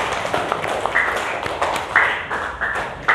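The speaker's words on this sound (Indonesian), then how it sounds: "Tepuk tangan buat Mbak Melan." A class claps hands for a student, a short burst of light, scattered clapping with sharp taps, fairly close, with no talking over it.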